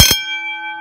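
A single loud strike of a vintage fire alarm bell, a sharp metallic clang followed by a pure ringing tone that sustains clearly without fading, close and alone.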